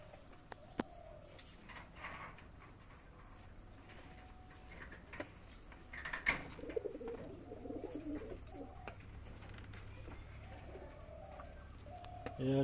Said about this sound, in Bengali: চলুন বন্ধুরা, আর এক জোড়া কালশিরা শখ করাই।